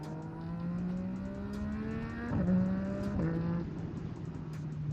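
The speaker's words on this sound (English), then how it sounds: "you hear that, boys? That quick shifter and that exhaust, amen." A Triumph motorcycle engine revs in steady tones with two quick, clean drops in pitch as the quick shifter changes gears, heard through the exhaust at moderate distance.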